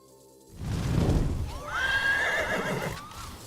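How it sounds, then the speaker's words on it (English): Horse neighing in the Hearthstone Battlegrounds video game, a loud whinny with a clear, wavering high cry over softer rumbling hoof-like clatter, with no talk. "I hear horsey sounds"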